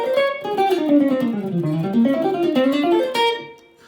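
Jazzy clean lead lines on a solid-body electric guitar, a smooth single-note run descending and climbing again with a slightly bright tone, played alone at moderate volume.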